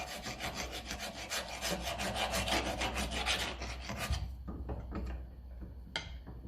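A hand file rasps steadily back and forth over heavily rusted metal on a 1954 Ferguson TEF-20 diesel tractor, quick repeated strokes, then slows to a few scattered scrapes and clicks, close by.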